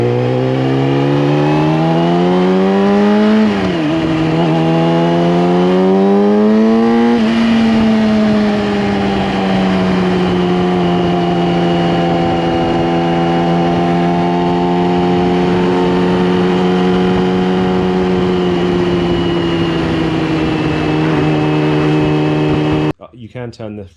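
A motorcycle ridden with a Yamaha-badged setup, engine droning loud and steady throughout with rising and falling pitch as it revs and shifts gears around four and seven seconds, then cruising evenly until an abrupt cut near the end.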